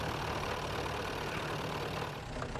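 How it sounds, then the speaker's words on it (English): An old car's engine runs steadily in a junk-dealer setting, a continuous low idling rumble with a faint irregular knock and a leaking radiator, close and alone with no voices. "the engine doesn't sound good. There is a slight knocking that he's investigating."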